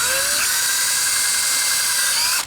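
A small bit drills 2mm holes in a single-handed Switch controller part, giving a loud, close, high-pitched whine that runs steadily for about two and a half seconds and then cuts off abruptly.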